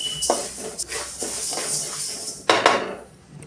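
Roasted sesame seeds for wheat-flour ellu holige are stirred in a pan with the gas turned off, producing a series of close metallic clinks and scrapes at an uneven pace, with one louder knock near the end.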